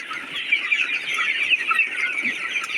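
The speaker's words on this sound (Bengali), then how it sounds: "দেখেন মুরগি দৌড়চ্ছে কিরাম" Sonali chickens cluck and chatter on a poultry farm, a continuous busy flock sound close by with no speech.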